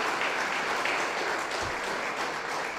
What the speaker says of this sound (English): So can you give the Dean and Barbara White Foundation a big round of applause?